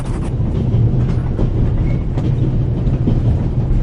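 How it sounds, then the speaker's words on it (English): Constant loud rumble and rattle inside a moving train, with the low roar of wheels on track and faint clicks throughout. "The noise on this train is driving me crazy."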